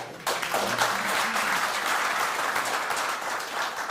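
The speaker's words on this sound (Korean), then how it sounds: "박수 한번 칩시다." An audience at a defense industry society breakfast forum gives a steady, moderately distant round of applause, many hands clapping together without pause after a brief murmur of voices at the outset.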